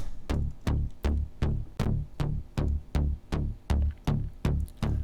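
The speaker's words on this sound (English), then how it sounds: "here I have the main bass, which sounds like this" Main bass part of an electronic track: a deep, punchy bass note repeats in a steady rhythm, about eleven hits, each decaying quickly, with no other sounds and no talking.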